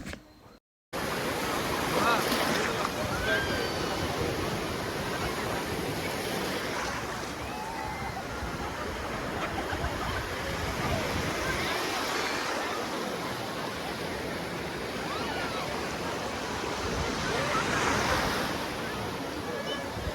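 Ocean surf at Malpe Beach, Udupi, washes in continuously with waves breaking every few seconds, mixed with gusts of wind buffeting the microphone.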